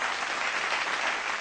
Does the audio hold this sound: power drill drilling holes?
no